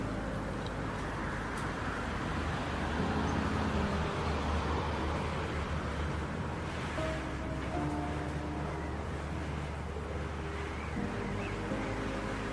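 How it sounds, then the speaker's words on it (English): Heavy roar of rushing water surging through a narrow rock canyon and echoing off the cliffs, a dense, steady broadband wash that holds loud and unbroken throughout. "the sound of rushing water below strikes the narrow cliffs and echoes back as a heavy roar"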